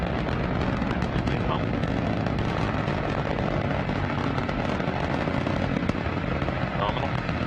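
Rocket first-stage engines at full thrust during the CRS-18 space station supply launch give a dense, steady, loud roar that holds evenly throughout, with broadband rumble and crackle.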